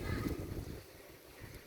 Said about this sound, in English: It's windy, I'm in a windy environment